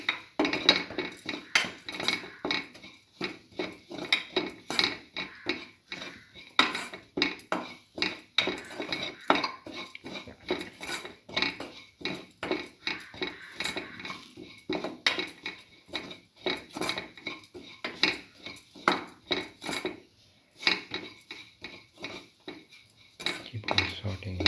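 A spoon clinks and scrapes against a bowl as chicken liver mixture is stirred with dried mango powder for a creamy coconut dish. The taps come in quick, uneven bursts close by, with no talking.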